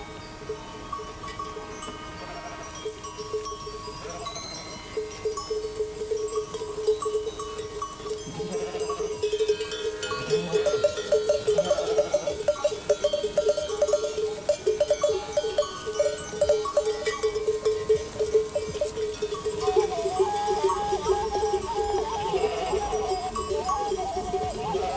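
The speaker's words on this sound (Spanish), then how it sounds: "estaba conduciendo a cientos de ovejas él solo" Bells clank and clatter as a large flock of hundreds of sheep moves along a nomadic route between pastures, with faint bleats mixed into a steady, dense outdoor din.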